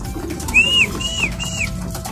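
Three short, soft whistled calls in a row from a nearby pigeon, over a quiet hum with no voices.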